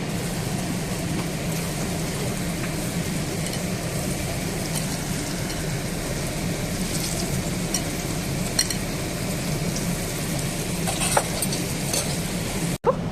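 Sliced okra (bhindi) crackles in hot oil as it fries crisp, a continuous even sizzle with no voice, and a brief clatter comes near the end.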